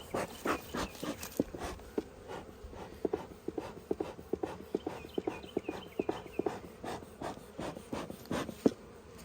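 Honeybees buzz around an opened beehive during an apprentice-level inspection, a steady droning hum under a run of sharp, irregular taps and clacks from handling the hive.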